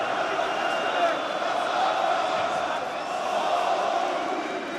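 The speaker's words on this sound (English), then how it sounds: "Loud are the crowd here in favor of Engizek" Arena crowd at an OKTAGON 66 MMA fight in the PSD Bank Dome, a steady, dense roar of cheering spectators that holds loud and unbroken throughout.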